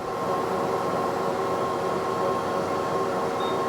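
A home treadmill motor runs at 8.7 miles per hour with a steady, loud mechanical drone and constant hum, running evenly without pause like a motor spinning at speed.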